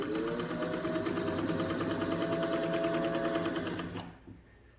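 A refurbished Singer 201-2 sewing machine stitches through two layers of heavy canvas, a loud, steady, rapid run of needle strokes for about four seconds before it stops abruptly, leaving only quiet.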